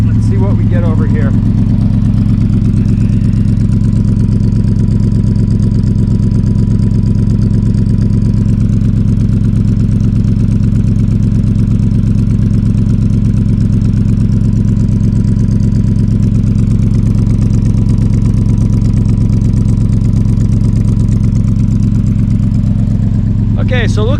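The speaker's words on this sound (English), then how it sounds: "I think the inside of the exhaust is rattling a little bit." Cobra Daytona build engine idling with a loud, steady low exhaust rumble close to the pipe, a slight internal exhaust rattle, continuous throughout.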